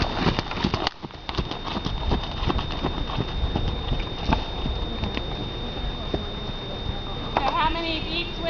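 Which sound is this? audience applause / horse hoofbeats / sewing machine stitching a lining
horse hoofbeats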